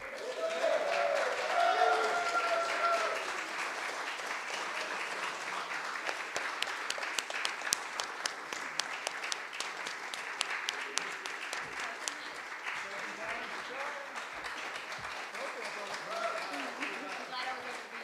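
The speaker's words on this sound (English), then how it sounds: "Let's give everybody a round of applause." Audience clapping for the first prize winner at the Suwannee Riverkeeper songwriting contest in Lake City, Florida, a steady round of applause with some sharper individual claps and voices mixed in.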